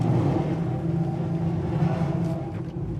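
A 1969 Chevy Nova with a manual gearbox drives along, its low engine drone steady and close throughout with a broad rumbling tone and no speech.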